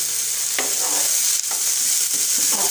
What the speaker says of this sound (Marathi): थोडासा रंग बदलेपर्यंत आपण कांदा फ्राय करणार आहोत